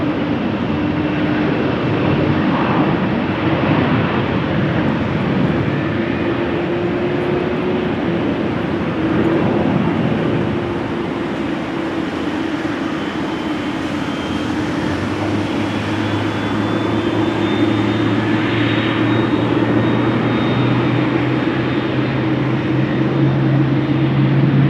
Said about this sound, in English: KLM flight 1817 to Frankfurt.